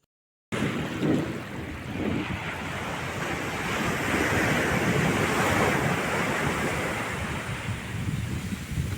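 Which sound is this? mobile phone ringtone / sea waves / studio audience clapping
sea waves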